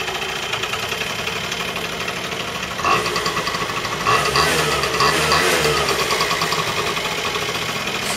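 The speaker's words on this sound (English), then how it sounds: "that's the Kymco 50cc scooter cold start" A Kymco 50cc scooter engine idling after a cold start on a rainy day, a steady buzzing putter with a fast, even pulse that swells a little as the throttle is blipped, running alone without talk.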